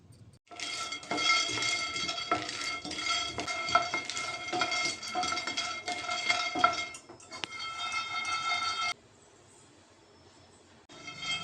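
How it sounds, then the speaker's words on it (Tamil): Peanuts dry-roast in a pan over a medium flame, giving a steady, dense rattle and scrape of nuts stirred against metal that stops suddenly, then leaves a quieter hiss. "இதை மீடியம் ஃப்ளேமில் நிதானமாக ரெண்டு மூணு நிமிஷத்துக்கு இந்த வேர்க்கடலையோட மனம் வந்து நல்லா வெளியில் வர அளவுக்கு வறுத்தெடுக்க போகிறோம்"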